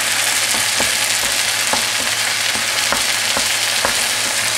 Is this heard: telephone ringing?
no